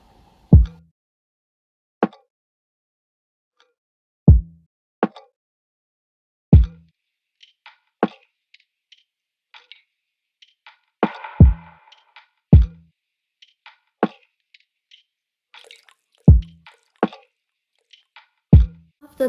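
Sparse lofi drum pattern of punchy kicks and snares with a long reverb tail on the snare, spaced hits with small clicks and ticks scattered between them, produced in Logic Pro X for a dreamy lofi track.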